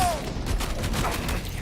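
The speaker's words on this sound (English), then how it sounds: "Warrior assault rifle." A Warrior assault rifle fires a rapid burst in a video game, loud and continuous for under two seconds.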